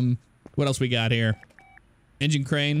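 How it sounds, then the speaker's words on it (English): A short electronic phone tone from Car Mechanic Simulator 2018 plays in the game's workshop, sounding briefly in a quiet gap between stretches of someone talking. "You just heard that sound. That's the phone, meaning that I have another job available to me."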